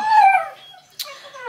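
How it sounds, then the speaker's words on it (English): A dog making a short whiny, whimpering growl close by, followed by a brief sharp noise and a softer trailing whine. "please excuse my dog growling in the freaking background"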